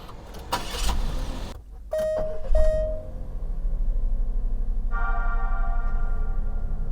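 A Daihatsu Atrai kei camper van fitted with a thin rooftop cooler has a door thump and its engine starting, followed by a steady idle and a pull away into driving, with a rising tonal whine near the end.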